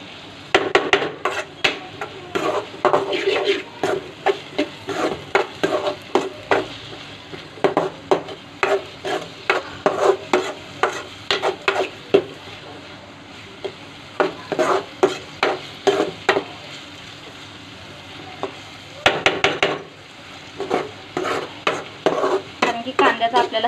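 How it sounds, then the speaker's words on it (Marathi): Onion and tomato frying for pav bhaji on a medium gas flame, loud rhythmic clacks and scrapes of a spoon against the pan over a soft sizzle, in quick bursts with brief pauses. "मिडियम गॅसवर आपल्याला हा दोन तीन मिनटं फ्राय करून घ्यायचं आहे"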